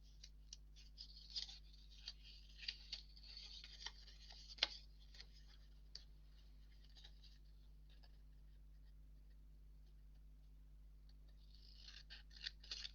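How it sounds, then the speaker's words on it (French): Scissors snip along the fold of a paper flower petal for a pop-up bouquet card, a series of faint, close clicks at an irregular pace in the first half, then quiet before a few more snips at the end. "je coupe bien sur le pli et j'enlève un pétale"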